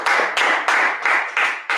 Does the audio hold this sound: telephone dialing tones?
no